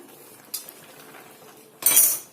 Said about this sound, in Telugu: అప్పుడప్పుడు నెమ్మదిగా కలపండి